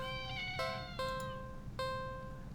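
A black cat with yellow eyes meows from inside a big cardboard box at the end of an alleyway in a video game, giving three drawn-out, tonal meows in close succession over a low steady background hum, with no voices.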